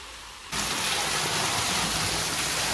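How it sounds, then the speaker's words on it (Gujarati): Water from a 150-foot borewell bursts out suddenly after a quiet half second, then rushes in a loud, steady, close roar that continues unbroken. "જોવો ખેડૂત મિત્રો પાણી જોરદાર આવ્યું"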